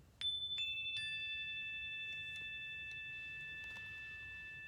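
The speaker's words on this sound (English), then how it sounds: "I'll be ringing a bell with each of the steps" A bell rung to mark a step in a guided pause practice, struck once with a bright, sustained ringing tone that slowly fades against quiet background hiss, with faint follow-up strikes and no talking.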